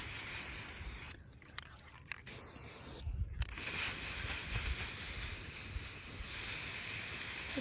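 A spray paint can hisses in long, steady bursts while the bottoms of objects are coated, with brief pauses between sprays and continuous spraying through the later part.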